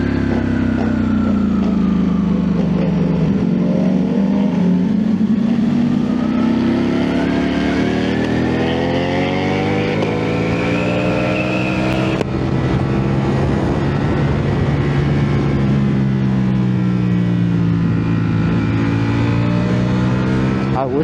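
A 2024 Ducati Panigale V4S ridden through curves on a road, with a loud, close engine drone that rises and falls in pitch with throttle and gear changes under heavy wind rush, lasting throughout.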